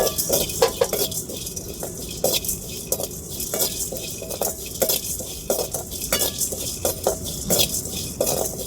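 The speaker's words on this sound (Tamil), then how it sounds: "இப்போ வந்து நான் பெருஞ்சீரகம் பொடி சீரகம் மிளகு இது மூணையும் தாங்க வறுத்து எடுக்க போகிறேன்" Fennel seeds, cumin and black pepper dry roasting in a pan over low heat, stirred with a utensil that scrapes and rattles in steady repeated strokes, close up and moderately loud, with no talking.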